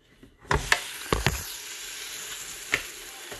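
Keto corn dog waffle batter sizzles and hisses inside a closed waffle iron, a soft steady frying sound marked by several sharp clacks and knocks nearby, with no talking.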